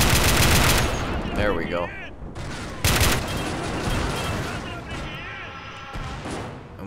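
Rapid machine-gun fire and heavy shots in a video game modded as the Red Rising Iraq War, loud bursts opening and recurring amid a sustained firefight, with someone talking over it.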